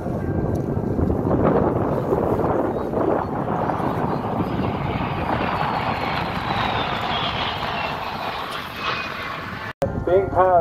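De Havilland Vampire T.11 jet trainer with a Goblin 35 engine flying at the Southport air show, a loud jet roar sweeping past and slowly fading, with a brief microphone thump near the end.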